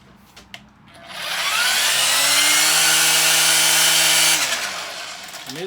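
A Ryobi 40 volt cordless weed eater revs up to a loud, steady high whine, holds for a few seconds, then winds down, heard up close with no talking.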